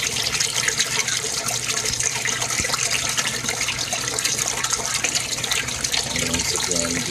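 Water pours steadily out of an aquaponics barrel siphon, a constant close splashing gush with no break, while someone talks over it.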